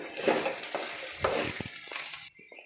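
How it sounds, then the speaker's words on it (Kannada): Okra (bhindi) frying and being stirred in a pan, a steady close sizzle with scraping stir strokes that drops away near the end. "ಫ್ರೈ ಆಗುತ್ತೆ ಬೆಂಡೆಕಾಯಿ"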